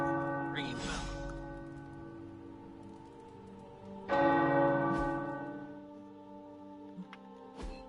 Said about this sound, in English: Peter Parker's ringing bell.